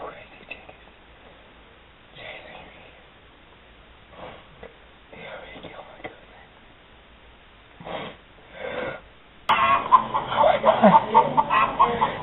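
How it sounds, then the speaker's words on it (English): Two chickens give short, scattered clucks and squawks, faint at first and louder near the end, with people talking and reacting between them. "There's two crazy chickens."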